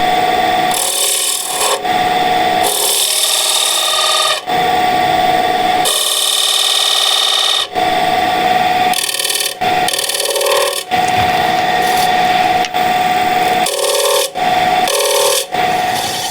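A lathe tool cutting a bead into spinning wood, giving a loud, steady scraping rasp in long passes broken by brief pauses as the tool is lifted and reapplied.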